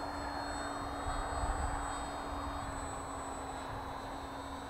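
Electric motor of an FMS FairRC Blue Jay beginner RC airplane in flight, a steady high whine with tonal hum held at constant level throughout, moderately distant over a soft wind-like background.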